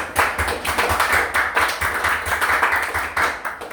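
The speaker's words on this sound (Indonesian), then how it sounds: "Oke, beri tepuk tangan" Clapping from a group of students in an Indonesian classroom session, a steady, dense patter of many hands close by that holds for several seconds without talk.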